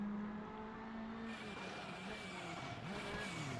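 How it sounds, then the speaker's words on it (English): A rally car rounds a hairpin on the final stage of the Rally Velenje round of the Eastern European Rally Championship, its engine droning steadily with a brief tire scrub as it turns, heard up close without talk. "Wright, who this time takes the hairpin by turning the car the right direction."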